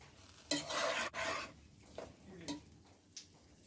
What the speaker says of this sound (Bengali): 2 মিনিট পর আরেকটু নেড়ে দিব।